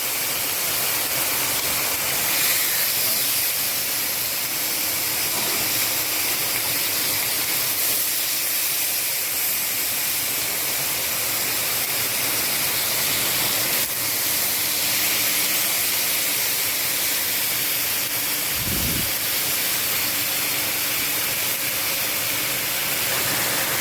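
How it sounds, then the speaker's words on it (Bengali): Tandoori chicken pieces hiss and sizzle in a very hot pan over a high gas flame, a loud, continuous broadband frying hiss that stays steady throughout. "এবার আমি চিকেনগুলো দিয়ে দেবো এক এক করে।"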